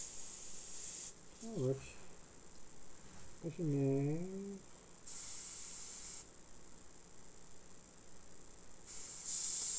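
An aerosol spray can sprays onto tabletop terrain for Necromunda, giving several steady hissing bursts of a few seconds each, with brief talk in between.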